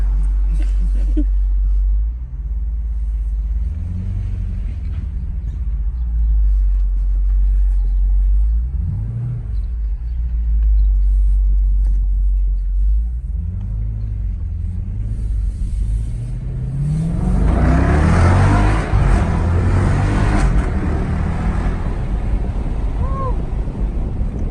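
A Dodge Durango SRT with a Mopar performance exhaust gives a deep, rumbling idle, rising in short revs and then a louder, harsher rev near the end, with some wind buffeting the microphone.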